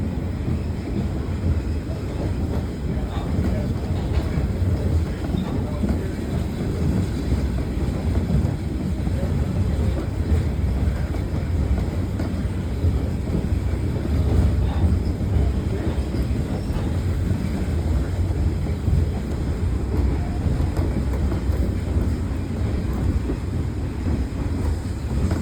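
Ride aboard the caboose of the Illinois Railway Museum's Shay 5 steam locomotive train: a steady, loud low rumble of rolling wheels and wind noise that continues unbroken, with no talking.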